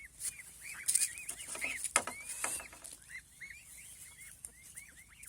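Repeated high, chirpy peeps from goslings call in short bursts on a goose farm, with a few louder squawks from larger fowl mixed in, outdoors and fairly close.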